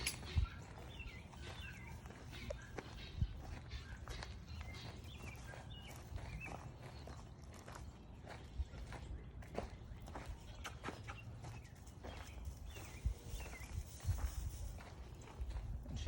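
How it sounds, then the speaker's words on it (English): A two-year-old mare steps around a farm, her hoof falls soft and irregular against a hushed outdoor background, with scattered faint clicks and distant ambience. "She is a 2-year-old horse."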